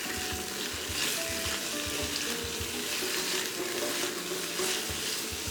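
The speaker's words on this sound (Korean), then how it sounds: "그리고 파하고 마늘하고 떡을 넣어서 살짝 볶아주세요." Green onion, garlic and rice cakes sizzle steadily in a hot pan, with rhythmic scraping strokes from the stirring and no voices.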